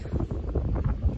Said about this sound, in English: And now it's blowing about 18 knots